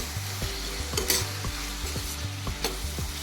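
Finely chopped onion cooks in a pan with a continuous sizzle while a spoon stirs and scrapes it, producing repeated clinks and a regular rhythmic thud, close and fairly clear.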